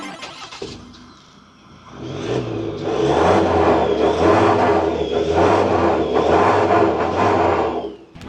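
A Ford Raptor with a 2.0 diesel engine and an HKS exhaust idles briefly, then revs up and holds a loud, throaty drone with rhythmic swells for several seconds before easing off.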